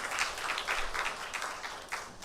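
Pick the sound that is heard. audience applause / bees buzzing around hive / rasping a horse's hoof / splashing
audience applause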